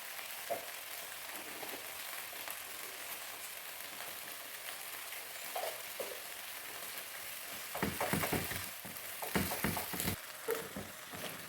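Water spinach (kangkung) stir-fries in a pan with sugar, salt and seasoning, a soft steady sizzle giving way to louder bursts of stirring and clattering toward the end, no voices.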